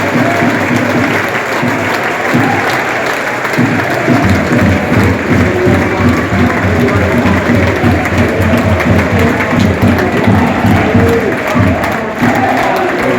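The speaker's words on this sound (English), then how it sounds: "The York fans on the side stand over there, making good noise pre-match" A large crowd of York City football fans roars and claps continuously before an FA Cup qualifier against Rochdale, with a steady wash of cheering and rhythmic clapping filling the space, loud and distant-sounding like a stadium.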